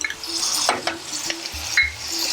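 Ginger and garlic paste hits hot oil in a frying curry, giving a bright continuous sizzle with a few scrapes and clinks of a spoon against the pan.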